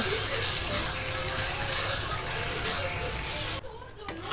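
Masala and sour yogurt stirred in a frying pan, giving a steady close sizzle with soft scraping throughout, briefly dropping out near the end before resuming.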